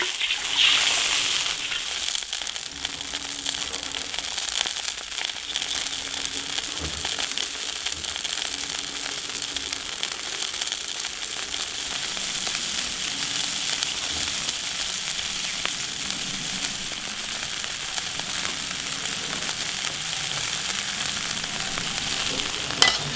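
Sauce seasoned with salt, sugar and soy sauce simmers and reduces in an iron wok, a continuous close bubbling hiss with faint crackles, steady for over twenty seconds with no talk.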